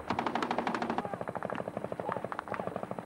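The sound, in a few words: heavy machine gun fire in a battle with the Taliban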